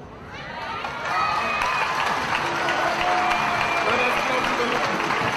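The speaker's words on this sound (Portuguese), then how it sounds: "Vamos aplaudir o Senhor." A church congregation applauds and cheers, swelling into a loud, sustained crowd roar of clapping and shouts that holds steady, with a few children's voices and scattered calls mixed in.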